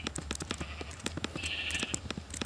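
A sheep bleats once in the Minecraft video game, a short, faint bleat within a busy stretch of rapid clicking and tapping.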